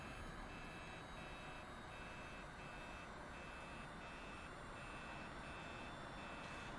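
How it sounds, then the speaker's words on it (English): Landing gear warning tone in an F-86 Sabre cockpit in Microsoft Flight Simulator: a steady train of short, evenly spaced high beeps repeating about twice a second over constant engine and wind noise. "This time I'm getting a gear warning."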